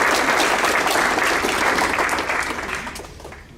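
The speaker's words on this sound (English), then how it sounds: "Let's give Ms. Meyer another round of applause" Audience applauding an honoree at a school district staff awards ceremony, loud dense clapping that holds steady and then fades out near the end.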